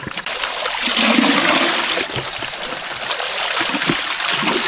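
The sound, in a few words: water rushing through a gold wash plant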